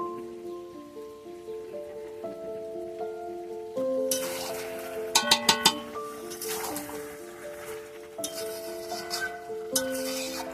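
Braised meat is stirred in a pot cooking over a wood fire, with scraping, metallic clinks and a soft sizzle, including a quick burst of sharp clinks midway, over steady tonal background sounds.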